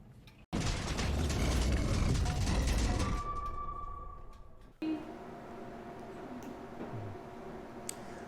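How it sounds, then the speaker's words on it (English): A hospital bed rolls toward a procedure room with continuous mechanical rattling, creaking and ticking from wheels and frame, loud and close for a few seconds, then quieter with faint clicks after it stops. "it's time to wheel you to the procedure room"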